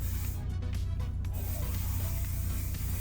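Hair spray hisses onto hair in a few short bursts early on, over a steady low hum, then the hiss stops and the hum carries on.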